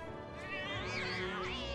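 Cats meowing in the Final Fantasy VII Remake video game, several drawn-out mews rising and falling over game background music, fairly close and steady.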